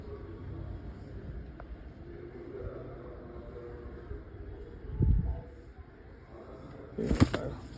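A quiet outdoor scene with faint low cooing, then two brief bursts of wing flapping, the second louder and close by.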